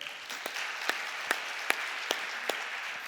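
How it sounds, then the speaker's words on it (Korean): A church congregation at a Friday late-night prayer and testimony service applauds, a steady wash of clapping with a few sharper individual claps standing out, close and fairly loud, with no talk over it. "박수해 주세요."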